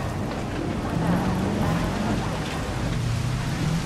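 Steady rain falls in the video game Jurassic World Evolution, a dense, even hiss of downpour with a low rumble beneath, continuous and fairly loud throughout.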